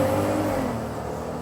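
A 2024 Jeep Gladiator Mojave pickup with a Pentastar engine pulls away, a steady loud engine drone with a rising rev and no talking.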